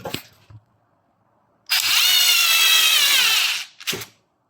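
A short burst of an electric screwdriver driving a screw at speed setting 2, whirring for about two seconds, loud and close, framed by brief clicks and knocks before and after.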